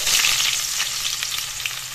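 Sliced onions hitting about 200 grams of hot oil in a wok, giving a loud, steady, close sizzle with faint stirring scrapes throughout.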